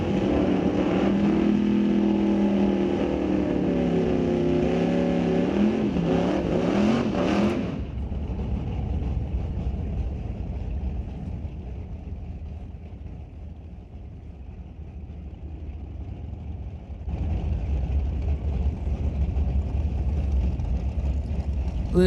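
Drag racing engines roar loudly at Mission Raceway Park, a rising revving wail up front that drops to a lower steady rumble, then swells again near the end.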